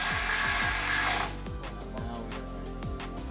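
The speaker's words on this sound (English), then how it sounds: "All right, guys, we bolted the first one. And now we're gonna have to bolt this over here." A power tool runs in a loud whir on an Invidia N2 exhaust being bolted onto a 2022 Subaru BRZ, then cuts to rapid rhythmic impact clatter, close up.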